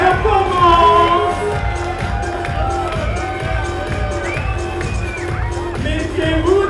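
Audience at a Monte-Carlo fashion forum event cheering and shouting loudly, a dense crowd roar with whoops and rising cries, busy throughout with voices mixed in.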